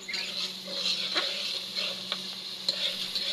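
Spice masala sautés in a pan with a constant bright sizzle, occasional light spatula taps and stirring clicks, close and steady with no voices.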